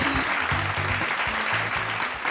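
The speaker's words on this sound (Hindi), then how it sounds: "मैं चाहूंगा दोस्तों जोरदार तालियों की गड़गड़ाहट हो जाए।" Audience applause at the 8th RK Excellence National Awards in 2013 fills the hall: continuous dense clapping, loud and close, with low tones sounding underneath.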